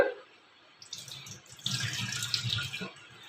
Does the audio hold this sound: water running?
yes